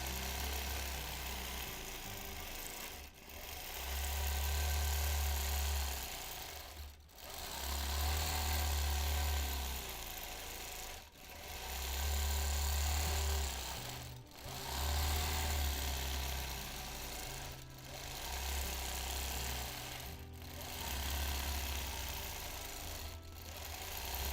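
A sewing machine stitching free motion quilting runs in steady whirring stretches of a few seconds each, broken by brief regular pauses, close and even, with no talking.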